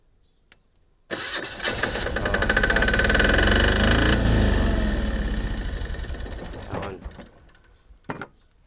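A small engine on dirty equipment with a fouled tank and filter cranks, catches and runs loudly for several seconds, then winds down and stops, followed by a couple of brief knocks.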